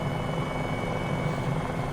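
A Bell 407 or MD 500E helicopter's steady rotor drone and engine hum fill the air, loud and continuous with a low pulsing thump.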